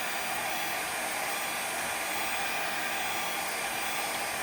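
A handheld hair dryer blows hot air in a steady, unbroken whoosh, close and fairly loud, lasting the whole stretch with no voices.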